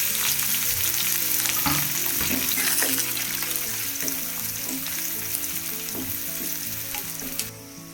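Mustard seeds, onion and curry leaves frying in oil for vermicelli upma: a loud, steady close sizzle with crackling pops and scraping stirs throughout, no voices.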